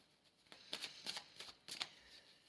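Oracle cards being shuffled during a card reading, heard as three quiet riffling bursts in close succession with soft rustles between them and no voices.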